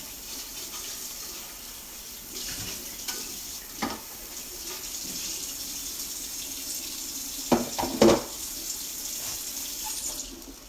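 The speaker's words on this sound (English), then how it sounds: "I'll rinse out my food container" A plastic food container is rinsed under a kitchen tap, with a steady close stream of running water and a few light knocks and clatters as it is handled in the sink.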